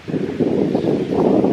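Short burst of gusting wind, a close low whoosh that swells and rustles briefly with no speech.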